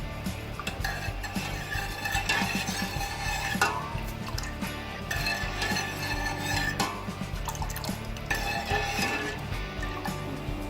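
Sugar water heats in a pan with a steady low bubbling hiss, while a spoon stirs it with frequent light metallic clinks and scrapes against the pan; no talking.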